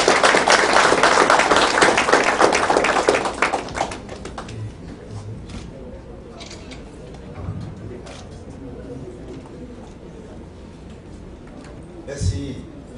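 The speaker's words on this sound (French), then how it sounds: "Sous vos applaudissements" Applause at a youth parliament session in a senate chamber, a dense, loud burst of many hands for the first few seconds, then fading to quiet room noise with occasional soft sounds.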